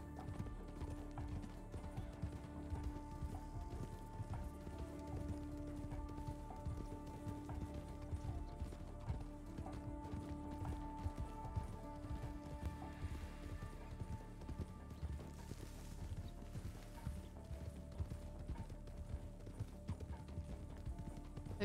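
A horse gallops in the RedM roleplay game, hooves clip-clopping in a quick steady rhythm that runs throughout at moderate volume.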